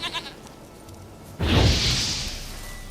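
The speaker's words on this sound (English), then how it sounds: "Here, goat." A goat in The Witcher 3 video game gives a loud, harsh bleat that starts suddenly partway through and trails off, preceded by a few faint sounds and no talk.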